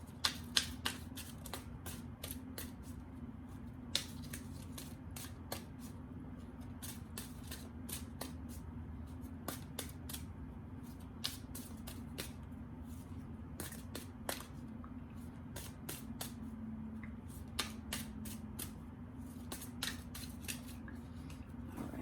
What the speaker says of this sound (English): We're just going to shuffle the old-fashioned way for this one.